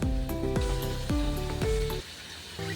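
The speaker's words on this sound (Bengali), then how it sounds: "এবার আমি এর মধ্যে ভেজে রাখা চিংড়ি মাছগুলো একটা একটা করে দিয়ে দেবো" Fried prawns drop one by one into hot oil and yogurt gravy, giving a steady close sizzle broken by several sharp splashing hits as each piece lands.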